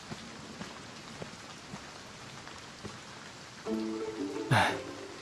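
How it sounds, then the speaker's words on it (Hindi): Heavy rain pours steadily on surfaces, a dense continuous hiss with scattered drops, joined near the end by a brief louder tonal sound. "अरे बाप रे, यहाँ तो बहुत बारिश हो रही है।"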